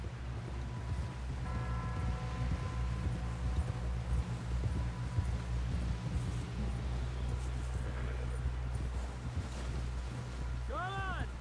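Horse hoofbeats in the video game Red Dead Redemption 2: a steady, close clip-clop of galloping hooves under constant wind noise, with a brief rising tonal sound near the end.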